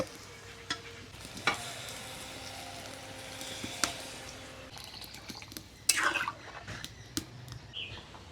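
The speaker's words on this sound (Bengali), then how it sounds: "চালে ডালে আর মশলায় কিছুক্ষণ নেড়ে চেড়ে নিলাম এবারে এর মধ্যে দিয়ে দিব জল" Water goes into a cooking pot of rice, lentils and spices for winter vegetable khichuri, with stirring clatter and scattered clinks followed by a short splashing, sizzling burst midway.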